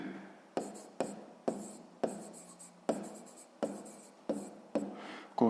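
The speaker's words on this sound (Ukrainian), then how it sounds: "Записуємо, що це в нас коштує." Pen or pencil scratching out a sixth-grade math solution on paper, a steady series of short writing strokes with brief pauses between them, close and fairly quiet with no talking.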